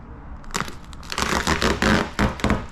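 Carbon fiber paint protection film tearing slowly along a car hood, a series of crackling, crinkling rips in uneven bursts, close and fairly loud with no talk.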